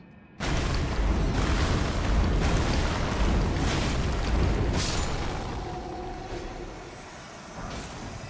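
An exploding bird in Elden Ring sets off a sudden loud, roaring blast that hits at once and then rumbles on at length, slowly thinning; no voices.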